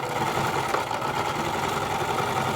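Zigzag stitching on a sewing machine through felt for a car travel mat, a steady continuous mechanical whir with fast needle chatter running without pause, fairly close and moderately loud with no voices.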